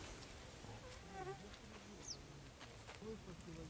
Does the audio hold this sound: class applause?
no